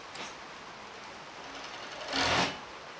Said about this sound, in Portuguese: Passa devagarinho no rumo da costura, tá? Pra não embolar e nem enganchar a sua linha.